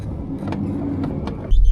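A vehicle grinding up steep roads in low gear, a steady close engine drone with a few brief clicks and a heavier low thump toward the end.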